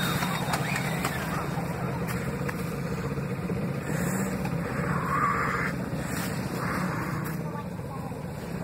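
Ranger off-road vehicle engine running steadily on a trail, a continuous low rumble heard nearby with people talking over it throughout.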